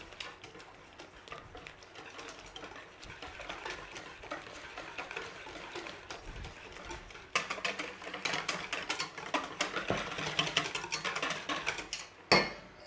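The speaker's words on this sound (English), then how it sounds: "A little bit of vanilla and let's give it a mix." Eggs, milk and vanilla being whisked together in a bowl for Dutch baby pancake batter, a steady faint clatter of utensil against bowl that gets busier and louder toward the end, with no talking.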